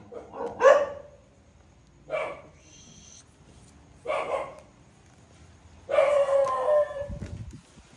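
Dogs bark in four separate bursts spread over several seconds, moderately loud and a little distant, with quiet gaps between them and no talking.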